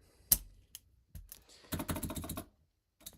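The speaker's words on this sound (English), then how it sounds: "Oh, my keyboard still works." Bursts of clicking keystrokes on a computer keyboard, with a sharp tap, a few scattered clicks, then a dense rapid run of typing before it trails off to silence.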